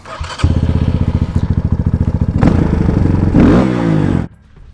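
A Barton NXT 250 motorcycle engine, modified for more power, cranks with a rapid chugging rhythm, then catches and revs loudly up close before cutting out abruptly.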